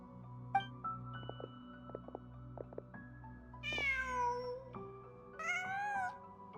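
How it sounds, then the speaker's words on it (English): A cat in the Genshin Impact video game meows twice in clear, rising-and-falling calls over a steady low game ambience with soft clicks and chimes. "Just a cat."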